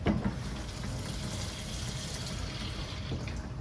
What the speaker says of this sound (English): I just put a little bit of water in the bottom of that bowl